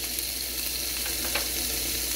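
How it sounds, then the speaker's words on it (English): Mushrooms and onions sizzle steadily in a hot pan for a Philly cheesesteak filling, a continuous broad frying hiss with faint crackles and no voices. "And you can hear the sizzle."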